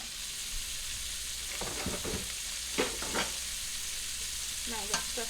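Chopped onion sizzling in hot bacon grease in a pan, a quiet, constant frying hiss with a few soft stirring scrapes and clicks.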